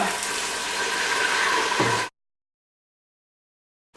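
A steady rush of liquid being poured for about two seconds, close and fairly loud, then stopping abruptly into silence.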